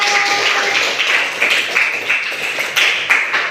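Classroom students clapping hands together at a teacher's call, a short burst of close, busy clapping with rhythmic accents and a little talk underneath.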